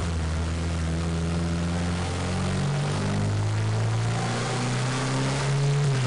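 A turbocharged car engine pulls up through the gears, droning loudly and steadily with pitch climbing, dropping at each shift and rising again, heard close from inside with no talking.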